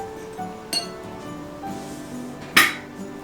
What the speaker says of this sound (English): And now we're going to mix this together. And we're adding 1 tablespoon of softened butter.